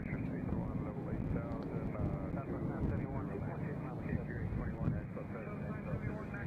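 Airplane taxiing at Nashville International Airport, a continuous low engine rumble and hum heard steadily beneath people talking.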